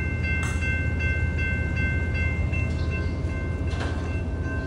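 A train rolls past a railroad crossing in Waltec, Michigan, its steady rumble loud and continuous throughout, with faint high tonal squeals riding above the low roar.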